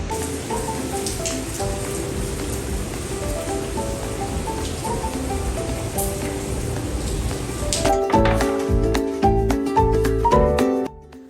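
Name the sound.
heavy monsoon rain falling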